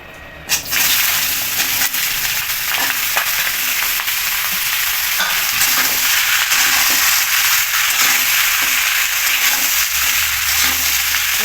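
Cumin, bay leaf, chopped bottle gourd and green chilies hit hot oil in a pan with a sudden burst, then settle into a loud, continuous sizzle with faint clicks of stirring.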